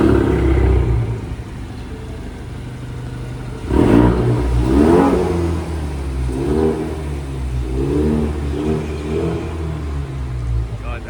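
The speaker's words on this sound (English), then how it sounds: "We're now gonna go for a night drive in the Mustang because we're obsessed with it" Ford Mustang engine revving and accelerating on a night drive, a mid-pitched rising drone that swells around the fourth second and holds steady, with voices talking over it.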